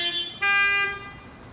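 A car horn honks in Mexico City traffic, one short toot followed by a louder, sustained blare that fades after about half a second, fairly close.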